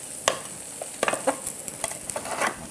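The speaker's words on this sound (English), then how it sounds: "I'm just going to get a little palette knife just to lift this out" A small palette knife scrapes and lifts a toasted sandwich off the hot plate of a Waring deep fill sandwich maker, making a few close, sharp metallic scrapes and soft taps over a faint sizzling hiss.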